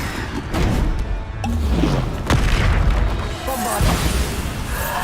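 Repeated Bombarda spell blasts in Hogwarts Legacy, a fantasy video game: several heavy booms and crashing impacts land across the stretch amid busy combat effects, loud and close.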